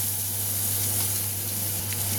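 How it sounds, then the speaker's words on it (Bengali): Masala spices sautéing in a pan for bhaja dimer jhol, a steady close hiss and sizzle with a low hum underneath and no break. "মিক্স করে এবার মশলাটাকে কষাতে দেবো"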